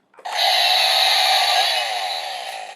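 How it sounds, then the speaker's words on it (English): A Kamen Rider Ex-Aid DX Buggle Driver toy's electronic sawing effect buzzes steadily for a couple of seconds, a bright whirring tone that fades slightly before cutting off. "Get a nice sawing noise."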